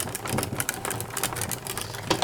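A manual die-cutting machine cranks a metal die through paper cardstock, giving steady creaks and cracking clicks up close under a constant mechanical rumble, with no talking.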